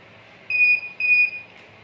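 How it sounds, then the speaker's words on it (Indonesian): An RFID home security system's buzzer sounds two steady electronic beeps in a row when a wrong card is detected, each about a quarter second long, clear and alone against a quiet background. "Ketika kartu yang dideteksi salah, maka buzzer akan berbunyi."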